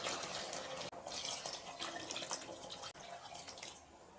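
Water splashes steadily into a cooker of chicken biryani with basmati rice, a close, continuous pouring rush with a couple of brief breaks.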